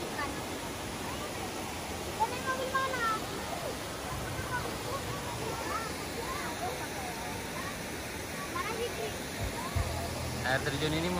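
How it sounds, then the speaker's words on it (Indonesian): A waterfall roughly 20 meters high at Tembolon pours with a steady, broad rushing hiss that fills the background, while people chatter faintly nearby. "Air terjun ini mungkin ketinggiannya cuma sekitar 20 meteran. Cuman airnya mantap."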